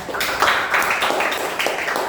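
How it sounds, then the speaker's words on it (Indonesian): A classroom group claps for a student named Nanda during a microteaching lesson: a short burst of dense, steady applause from many hands, fairly close, with no talking over it. "Berikan tepuk tangan dulu kepada Nanda."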